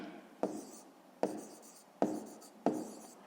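Close, quiet pen strokes on paper while working a fifth-grade math exercise: four evenly spaced scratchy bursts, each starting with a tap and trailing off, alone without speech.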